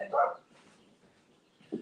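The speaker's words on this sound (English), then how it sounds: "The dogs are freaking out." Dogs bark in short bursts, one fairly close yap followed by quieter, more distant barks in an otherwise hushed indoor scene.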